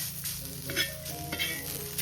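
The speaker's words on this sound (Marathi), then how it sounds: "तवा गरम आहे म्हणून थोडंसं असं परतवून घेऊया आपण." Red chilli, ginger and coriander sizzling while they roast on a hot tava for a Konkan-style chicken dish, a continuous close, crackling fry with light stirring scrapes and no talking.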